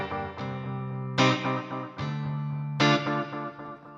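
Electric guitar played through a compact travel amp's tap-tempo delay, with struck chords ringing out and distinct repeating echoes trailing each strum in a steady rhythm, loud and close with no talking.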